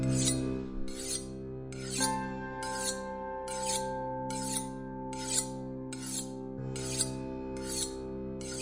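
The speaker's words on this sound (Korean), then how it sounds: "하인들이 칼을 가는 모습이 보였다." Regular rasping strokes of a blade being sharpened, about ten evenly spaced scrapes, heard under sustained tonal background music in a dramatized historical scene.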